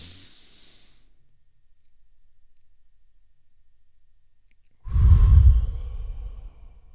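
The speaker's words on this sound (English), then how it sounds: "take in the deepest breath possible" Breathing exercise: after a near-silent pause, a deep, close full exhale rushes out in one long breathy sigh that fades away.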